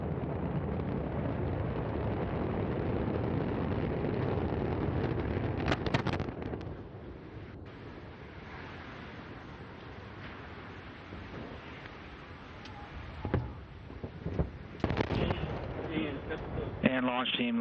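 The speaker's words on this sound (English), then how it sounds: "we have liftoff of Antares with the Orbit 3 mission that brings Cygnus on its third" After liftoff, the engines of an Antares rocket carrying a Cygnus cargo spacecraft roar as a dense, continuous low rumble, distant and wind-buffeted, with crackling bursts and mission-control voices over it.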